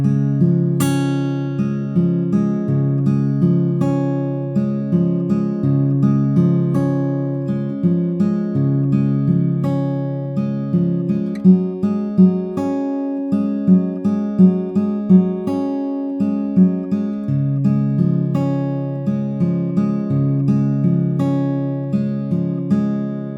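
Fingerpicked acoustic guitar chords from the verse of a song ring out steadily for over twenty seconds, plucked notes rolling in an even pattern with no talking.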